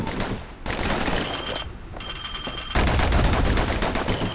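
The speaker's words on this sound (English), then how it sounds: "Know what's better than having a slinger pistol in a fight? Having two." Dual slinger pistols in the video game Bastion fire in rapid, dense bursts of loud shots, with a brief lull before a heavier, sustained volley that runs to the end.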